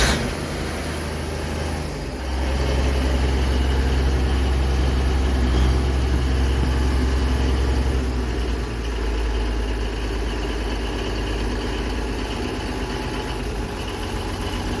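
A Versatile 875 tractor engine with a turbocharger catches and settles into a steady, loud, rumbling idle close by, its tone shifting slightly after the first couple of seconds, with no talking.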